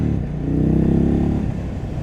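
An Indian Chief Dark Horse motorcycle's Thunderstroke engine revs with a deep, throaty rumble that swells and then settles back to a steady idle, close by.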